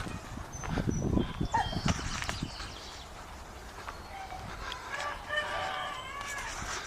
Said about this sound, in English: Nice variety of chickens.